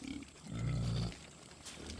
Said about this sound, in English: the big pigs are clearly all jealous of the little pigs getting potato chips. They are raising the roof.